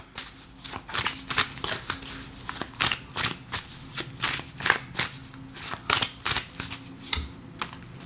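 Oracle cards are shuffled by hand in a string of quick, crisp riffling and flicking bursts, close and fairly even in rhythm, with no talking.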